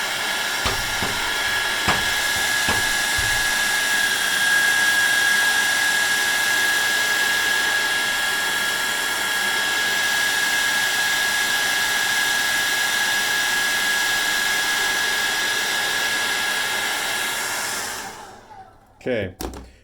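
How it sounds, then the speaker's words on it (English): A hair dryer blows steadily at close range over roof shingles with a constant whooshing roar and faint whine, running for most of the stretch before switching off near the end. "I'm just going to use a blow dryer."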